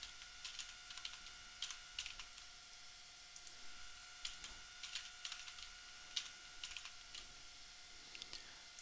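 Quiet, quick keystrokes on a computer keyboard as a password is typed, a rapid irregular clicking in short bursts over a faint steady hum.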